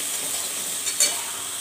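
Onions with fennel paste sautéing in a pan, a soft steady sizzle with a light stirring clink near the end, close and brief with no voices.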